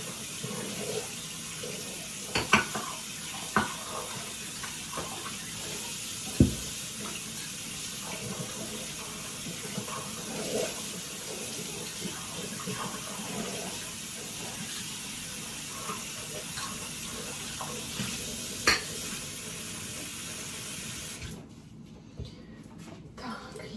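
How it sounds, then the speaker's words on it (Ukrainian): Cups being washed under a running tap in a home kitchen, a steady hiss of water lasting about twenty seconds with occasional clinks of crockery, then the flow shuts off near the end. "І помию чашечки"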